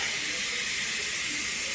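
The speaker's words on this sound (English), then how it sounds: "it's going to continue to release that steam" Steam hisses steadily from a Pampered Chef Quick Cooker pressure cooker venting after cooking chicken parmesan pasta, a loud, close, continuous rush with no break.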